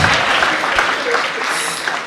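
Audience clapping at a conference talk, a steady dense wash of hands held at an even level through the whole stretch, with a few louder claps and faint voices mixed in.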